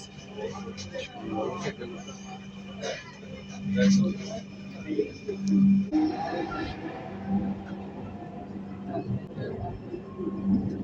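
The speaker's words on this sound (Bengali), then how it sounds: "এই যে আমাদের ঢাকা মেট্রোর মেট্রো সার্ভিস" Dhaka metro train at a station, a low steady rumble and hum with a tonal drone and bumps as the carriage moves, while people talk over it throughout.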